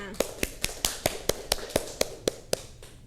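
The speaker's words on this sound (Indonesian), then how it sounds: "Beri aplaus untuk kita semua." A small classroom group claps together during a microteaching session, about a dozen sharp, evenly spaced claps in a quick steady rhythm, close and clear.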